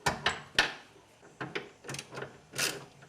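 Wrench on the power steering belt tensioner bolt of a 1995-2008 Nissan Maxima: a series of fairly quiet, irregular metallic clicks and ratcheting taps, about eight separate bursts, close by with no talking.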